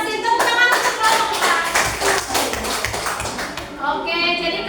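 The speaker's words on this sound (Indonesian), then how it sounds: "Tepuk tangan untuk kelompok" Classroom applause for a student group: dense, steady clapping from many hands fills the room for several seconds, with children's voices mixed in.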